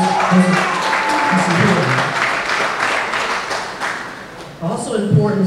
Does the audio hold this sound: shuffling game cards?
no